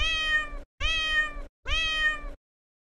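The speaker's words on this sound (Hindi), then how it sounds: "Cat, C A T cat यानी बिल्ली।" A domestic cat meows three times in a row, each call drawn out and evenly spaced, close and clear with no other sounds.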